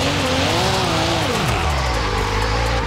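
Turbocharged Cadillac CT4-V Blackwing with anti-lag, manual gearbox, drifting in Forza Horizon 5: loud engine revving with a sweeping pitch that rises and falls, tire squeal layered over it, continuous and close.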